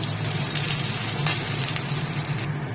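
Fish frying in oil in a home kitchen, a steady close hiss and crackle throughout with one brief clink near the middle and no talk.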